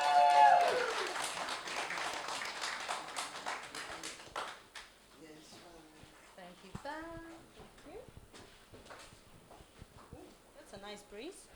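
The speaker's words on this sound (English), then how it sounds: "Come up, Val, give her a round of applause." Audience applause for a speaker at a Windrush storytelling event, loud at first and tapering off within a few seconds, after which faint talk and scattered voices continue.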